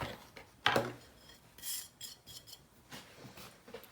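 Dry ingredients being worked into flour for naan dough give soft rubbing and scraping rustles, faint and close, with a brief sharper scrape near the start and no talking.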